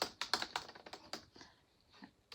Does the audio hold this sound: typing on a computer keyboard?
yes